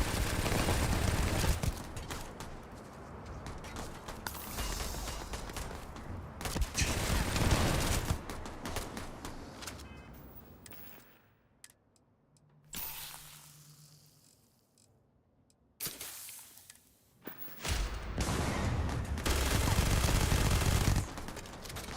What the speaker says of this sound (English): What's confused is that everybody's shooting at me.